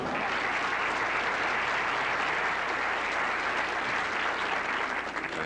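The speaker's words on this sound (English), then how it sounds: "Fans here applauding every shot." Fans at a 1983 professional bowling tournament applaud a shot, a loud, dense and continuous roar of clapping from a big crowd that holds steady throughout.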